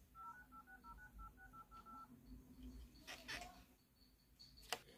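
Telephone keypad dialing tones, a quick run of short, evenly spaced beeps at moderate volume over a faint low background hum, stopping partway through, followed by a few scattered clicks and noises.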